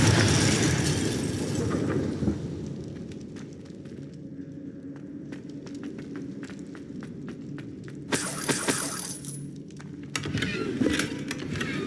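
Confringo fire spell blasts in Hogwarts Legacy, heard as sharp crackling bursts near the start and again around the middle, over a low rumbling game ambience with small clinks and footsteps between them.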